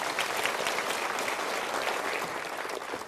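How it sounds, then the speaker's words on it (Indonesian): An audience at a Mario Teguh Golden Ways motivational seminar breaks into loud, dense applause, a continuous roar of many hands clapping at once that stays full and even throughout. "Yuk kita berikan tepuk tangan."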